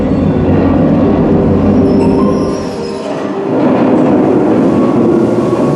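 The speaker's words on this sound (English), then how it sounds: "here comes the ore train" A long ore train at a mining setting rolls past, a loud steady rumble and clatter of rail cars close by, dipping briefly midway before swelling again, with no talking.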